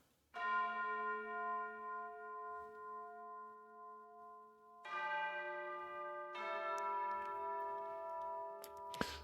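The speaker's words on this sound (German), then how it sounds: "Dieses Dong und dann hat man sehr viel Hall dabei, dass man eben das Gefühl hat, die Glocke ist halt sehr weit entfernt." A distant bell tolls with heavy reverb in dark fantasy-style game music, Dark Souls-like: a long, ringing strike that decays slowly, followed by two more struck tones layered over a soft sustained bed.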